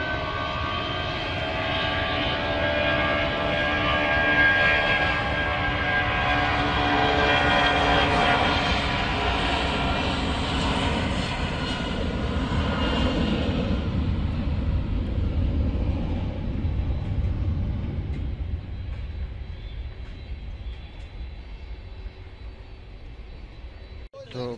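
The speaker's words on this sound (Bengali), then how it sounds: "YTO কার্গো এয়ারলাইন্সের এই বিমানটি এখন ন্যানিং এর উদ্দেশ্যে উড়ে যাচ্ছে ঢাকা থেকে।" A YTO Cargo Airlines plane takes off from Dhaka's Hazrat Shahjalal International Airport, heard from close to the runway at Uttara Dalipara: a loud, broad jet roar builds, holds, then fades as the aircraft climbs away.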